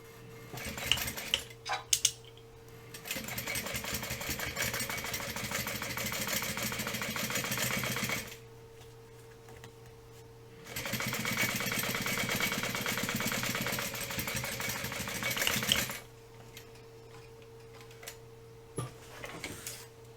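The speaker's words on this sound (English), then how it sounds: "now we're going to top stitch on that under the zipper on that contrast piece" A sewing machine runs topstitching under a zipper on a contrast piece, giving off a rapid mechanical chatter in two long bursts with a pause between them and short clicks and handling sounds around them, close and steady.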